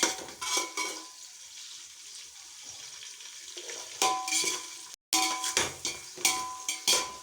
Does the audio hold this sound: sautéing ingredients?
yes